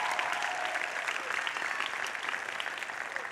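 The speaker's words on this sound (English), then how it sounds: "Give them a round of applause." A commencement crowd at the 2016 Webster University ceremony applauds the faculty with dense, sustained clapping that holds steady throughout, moderately distant in a large hall.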